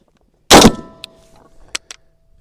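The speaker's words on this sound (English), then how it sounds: "Now we're just gonna fire this first clip out of it and see how she works." An M1 Garand rifle fires one loud, close shot that rings out, followed by a few sharp metallic clicks and clacks as the action malfunctions.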